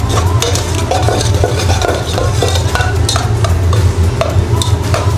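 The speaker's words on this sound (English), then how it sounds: "So just stir it up, warm that through." Spaghetti tossed with broken-down zucchini sauce in a pan, stirred with utensils, giving steady scraping and clinking over a continuous close sizzle, with no voices.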